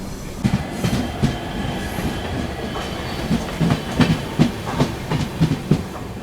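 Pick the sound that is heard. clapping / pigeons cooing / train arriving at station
train arriving at station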